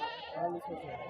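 Goats bleating at a weekly livestock market in Dubbaka, wavering calls rising above a constant murmur of talk and bargaining crowd noise close by.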